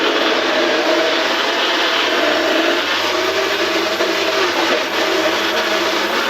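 A blender grinds steadily through frozen bananas, berries and soy milk, a loud, continuous whirring motor with a slight shift in tone toward the end, no speech.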